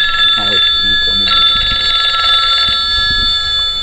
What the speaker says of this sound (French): C'est la sonnerie de quand on t'appelle, ça.